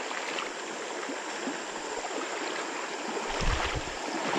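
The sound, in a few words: creek water flowing at a small waterfall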